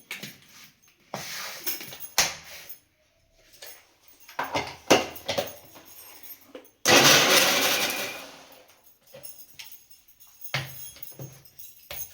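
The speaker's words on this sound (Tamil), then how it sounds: "இப்போ இதை நல்லா அரைச்சி எடுத்துக்கலாம்" A mixer grinder blending tomatoes and cashews runs in short pulsed bursts separated by pauses, ending in one longer loud whirring grind.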